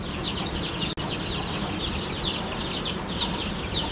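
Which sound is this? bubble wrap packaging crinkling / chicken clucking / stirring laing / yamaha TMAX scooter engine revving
chicken clucking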